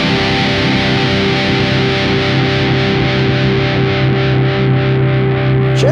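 Gibson Blood Moon electric guitar played through heavy distortion with its pickups pulled out, giving a steady, loud, buzzing sustained tone with a constant hum and noise floor, no voices.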